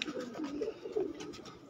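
Pigeons coo on a rooftop loft, a mix of pigeon breeds crossed with local birds, with several soft, wavering coos following one another at close range. No one speaks.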